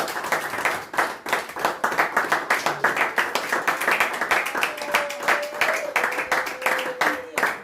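A church congregation applauding during a sermon on prayer: dense, steady rhythmic clapping from many hands in a room, with voices and a rising sung or shouted tone mixed under the applause throughout.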